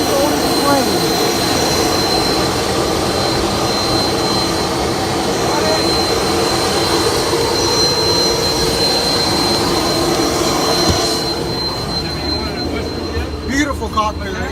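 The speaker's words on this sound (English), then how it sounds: "This is a Gulfstream G450." Gulfstream G450 private jet engines give a steady, loud broadband roar with a thin high whine running through it, heard close and continuous, with indistinct voices mixed in.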